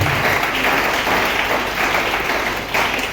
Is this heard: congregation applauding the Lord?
yes